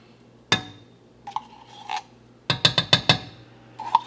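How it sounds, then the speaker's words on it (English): A metal knife scrapes tomato paste out of an opened can, with one sharp scrape, a few softer rubs, then a quick run of five close, rhythmic metallic scrapes and a final clink, all without talk. "You're going to need your knife. Scrape in."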